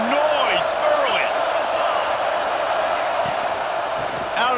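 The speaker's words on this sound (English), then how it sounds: "This crowd bringing the energy and noise early." Stadium crowd roar from a college football game in EA Sports College Football 26, a loud continuous wash of cheering and voices with a few whoops, steady and close throughout.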